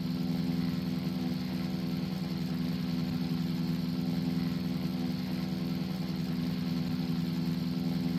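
A retro aircraft engine in a flight game drones steadily after the throttle is eased back to 91, a constant humming buzz with no change in pitch, heard alone throughout.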